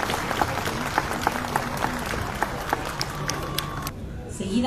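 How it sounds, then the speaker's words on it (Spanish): A crowd at a civic tribute for the Santísima Cruz de San José's 36th anniversary, during the Santísimas Cruces festival in Chancay, applauds loudly and continuously before the clapping fades out, with voices mixed in. "Los aplausos para la Santísima"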